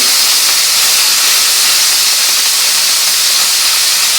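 Scotch fillet steak, peppered and at room temperature, pressed onto a hot pan, giving a loud, steady, continuous sizzle with no voices over it.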